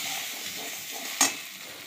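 Ground turmeric, cumin and coriander powder frying and being stirred in a pan for a Bengali palak soyabean dish, a steady soft sizzle with one brief louder scrape or hiss of stirring near the end, no talking.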